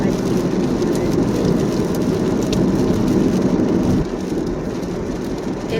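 Steady, heavy rain falls during travel in Japan in autumn, a dense close hiss with a low rumble, softening slightly toward the end.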